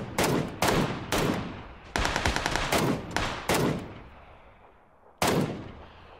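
Video game gunfire from an AK-type rifle firing 7.62 rounds rings out in loud, close bursts and single shots, with rapid automatic volleys between them and a final lone shot after a short quiet gap.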